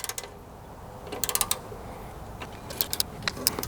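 Engine bolts on a 7.3 IDI diesel short block being torqued to spec with a wrench, a few quiet ratcheting clicks and small metallic taps in sparse clusters, close but faint over a soft room hiss.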